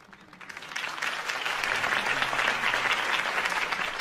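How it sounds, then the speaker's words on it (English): Crowd applause in the Batman Telltale Series video game swells up from quiet and holds steady as a dense wash of many hands clapping. "Mr. Wayne, my campaign's largest backer, could have heard that applause"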